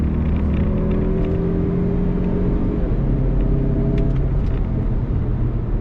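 A 2021 Mazda CX-30 Turbo AWD subcompact SUV with a 6-speed automatic accelerates under throttle, its engine drone rising steadily through a gearshift with low rumble heard from inside the cabin, no talk.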